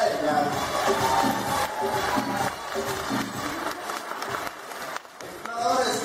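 Audience applause at an aquarium show in Mazatlán: steady crowd clapping from a distance, sustained throughout, with an announcer speaking over it.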